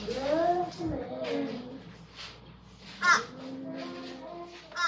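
A fish crow named Cormac caws repeatedly near a dining room window, several nasal calls at close range, with a voice speaking softly under them.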